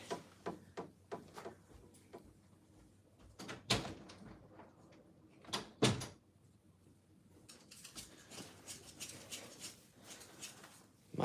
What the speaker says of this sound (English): My dog is scratching at my door wanting the pancake.